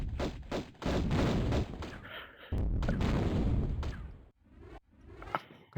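Gunfire from the boss Natla aimed at the player in Tomb Raider 1's Great Pyramid level: loud bursts of shots and booming impacts with whooshes, coming in clustered volleys and then thinning into a few sharper single hits.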